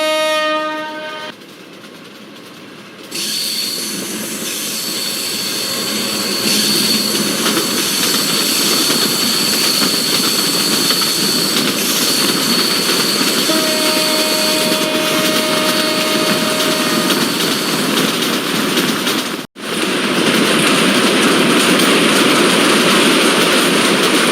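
In a PC train simulator game, the Rangpur Express roars along at speed between Mouchak and Tangail, a steady loud rumble with a long horn-like tone in the middle and a brief dropout near the end.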